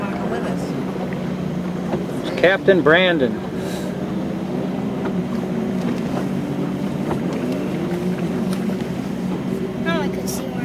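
A motorboat engine hums steadily beneath wind noise on Fall Creek Reservoir, Oregon, while people talk nearby on board.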